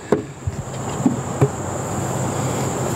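A dense, steady hum of many honey bees buzzing close by at a hive, with a few soft knocks and taps near the start.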